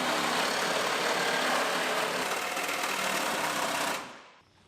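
A 1964 Chevelle El Camino V8 with dual exhaust runs steady and loud, a dense, even roar that holds for about four seconds and then cuts off abruptly and dies away.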